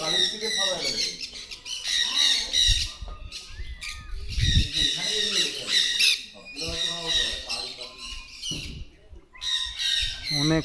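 Many birds in an aviary at Sidekeong Tulku Bird Park in Pelling squawk and screech loudly in repeated harsh bursts, close by, while people talk now and then in the background.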